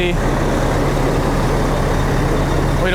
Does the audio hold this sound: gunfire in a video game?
no